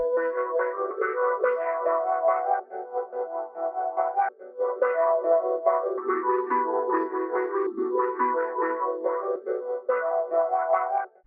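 Two consolidated Nexus synth patterns processed with Orb, Portal, half-time and EQ effects for a new-planet style beat, a warbling, filtered melodic loop with a brief dip midway, steady and moderately loud.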